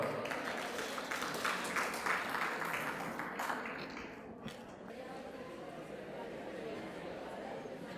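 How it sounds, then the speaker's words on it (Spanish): A lecture audience, including students and officials, claps for an incoming speaker. A few seconds of moderate applause from a seated crowd taper off into a murmuring room with scattered voices. "Fuertes los aplausos."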